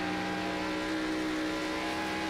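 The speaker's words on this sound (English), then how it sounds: "You can hear that engine." A NASCAR Xfinity Series race car engine holds a loud, sustained high-revving drone with steady harmonic tones, continuous and close, with no talk over it.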